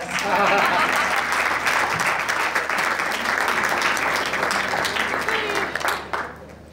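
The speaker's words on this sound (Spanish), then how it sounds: "Aplaudan y no hagan preguntas." An audience at a health congress applauding: dense, sustained clapping from a roomful of people, loud and steady for several seconds before thinning out and fading at the end.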